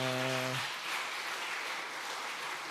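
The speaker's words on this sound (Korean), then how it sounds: "박수." Congregation applauding in a church service, steady broadband clapping filling the room after a brief harmonic voice at the very start, moderately loud and even throughout.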